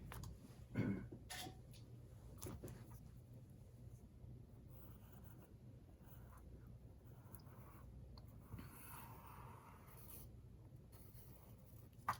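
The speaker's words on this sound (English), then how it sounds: "let's do a bit of tracing around" Pen tracing around a paper envelope template, faint scratchy strokes close by with occasional louder rubs and taps, quiet room with no talking.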